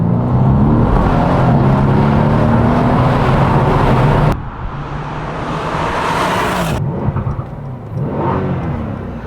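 Tuned Mercedes C63s AMG with stage 1 tune and stock downpipes revs hard and loud close by, the engine roar sustained, dropping briefly, then climbing again with crackling bursts toward the end.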